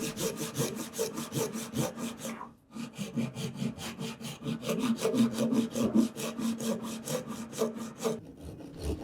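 Japanese handsaw cutting wood for a joinery joint: a fast, even rhythm of rasping strokes, close and clear, with a short pause near the start and another near the end.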